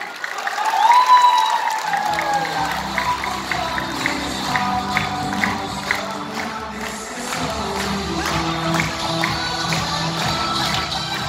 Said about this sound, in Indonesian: Mari kita sambut dengan aplaus yang meriah